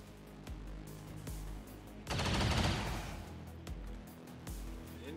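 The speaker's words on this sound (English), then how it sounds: "Incoming fire." Gunfire in the XCOM 2 video game: a dense, loud burst of rapid shots lasting about a second, set among quieter isolated thumps and low game ambience.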